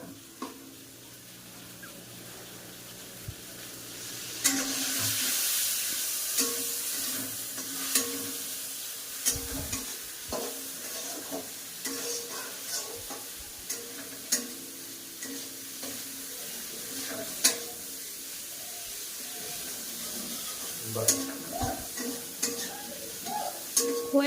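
Spice masala sizzles in a pan while being stirred, a steady frying hiss broken by repeated scraping and tapping strokes of the spoon, close and fairly loud, with a brief louder burst of sizzle early on.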